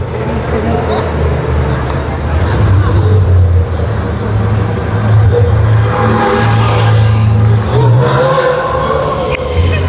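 Race cars of the Ligier JS Cup France and Fun Cup series passing on a circuit, a loud engine drone rising and falling as they go by, with speech over the noise.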